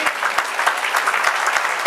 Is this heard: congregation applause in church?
yes